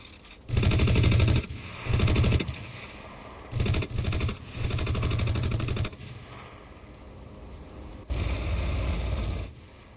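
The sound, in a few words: machine gun in a bomber's nose firing, from the video game Enlisted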